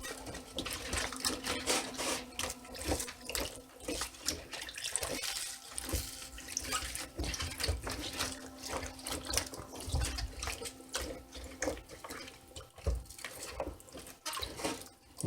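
Tap water runs and splashes over green onions being washed in a sink, a continuous close rush with uneven gushes and soft thuds as the bunches are handled, with no voices.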